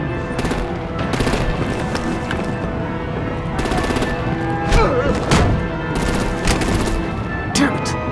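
Heavy artillery and rapid automatic gunfire in the Batman Telltale game, dense continuous bursts with sharp booming impacts, loud and close, under a steady thick rumble with a voice heard faintly in the mix.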